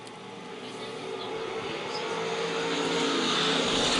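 USRA A and B modified stock cars race on a Lakeside dirt oval, a dense engine roar that swells steadily louder as the pack charges toward turn 3.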